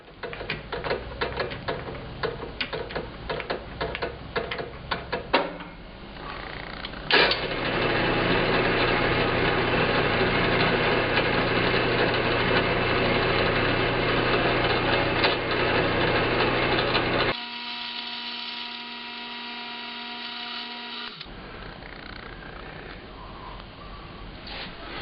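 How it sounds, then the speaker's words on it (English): Drill press boring a lead hole with a 3/8 inch Forstner bit for a handmade wooden crankbait lure: stuttering bursts of motor whine, then a long steady grinding run, a brief humming pause and more drilling, close up. "So, off to drill the lead hole. Well, I have this 3/8 inch Forstner bit"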